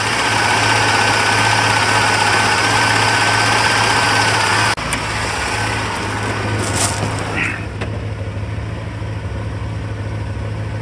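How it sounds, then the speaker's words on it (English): A stock 1984 Chevrolet Corvette with Cross-Fire Injection idling steadily after an ice-cold start, a loud, close, even low hum and rumble with a brief clunk midway, after which the idle continues slightly quieter. "Just dropped down to 800 RPM on the idle, steady."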